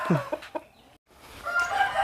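A farm rooster gives a few short, close clucks, then breaks off into a brief silence before a longer, brighter call rises near the end, with no talk over it.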